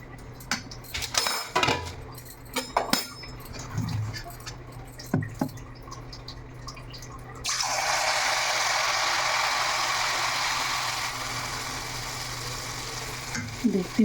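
Malpua batter poured into hot oil on Karva Chauth, first a few clanks of pans and utensils, then a loud, steady broadband sizzle that holds for several seconds.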